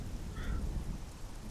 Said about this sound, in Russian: к сожалению, пошел дождик.